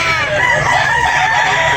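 Rooster at a poultry market letting out a single loud, close crow that holds for nearly two seconds.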